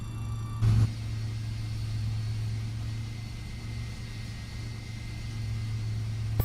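An MD-88 jet engine spools up during start in a flight simulator, a steady low rumble with a faint whine above it and a brief louder burst near the start, continuous and alone without talk.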